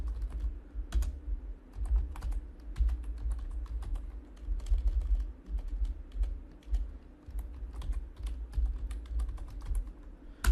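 Bengali text being typed on a computer keyboard, a close, rapid patter of key clicks in irregular bursts with brief pauses.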